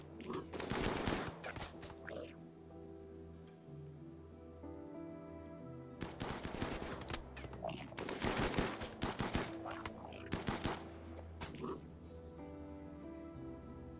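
Video game gunfire comes in dense automatic bursts, a heavy volley at the start and two longer rattling stretches later, over a steady sustained musical drone, loud and close.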